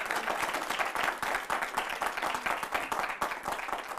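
An audience bursts into enthusiastic applause at a Hindi political talk, with dense, continuous clapping from a large crowd sustained steadily throughout.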